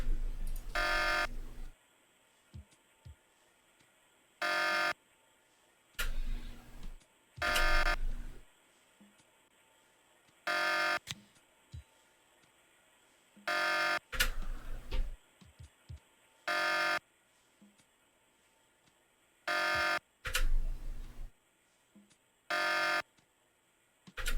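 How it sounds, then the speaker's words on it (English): An alarm buzzes in loud, flat bursts of about a second each, repeating around ten times at uneven intervals with near-silence between them, and no voices over it. "Sounds like I got that alarm turned off."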